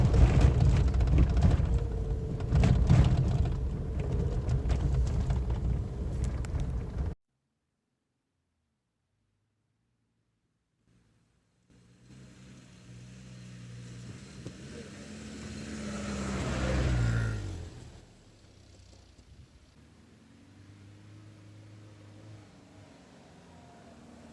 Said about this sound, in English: I'll show you how we drop this thing into low range